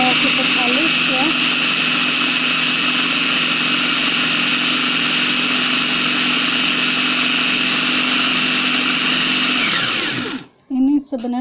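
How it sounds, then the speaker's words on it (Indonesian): An electric blender grinds taro (satoimo) with no water added, a loud steady motor whine that runs for about ten seconds, then winds down and stops, followed by brief clatter. "Nah, ini saya blender tanpa diberi air, jadi khusus talas saja tanpa air."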